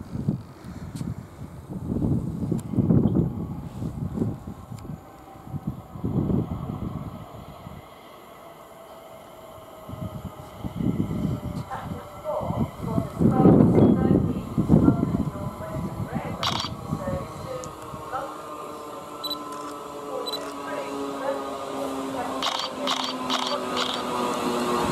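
A London Northwestern Class 350 electric train pulls into Cheddington station, with a low rumbling approach, squealing brakes and rising whine as it slows, under brief voices and platform noise.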